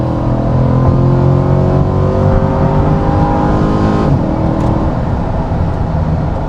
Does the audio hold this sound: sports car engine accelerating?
yes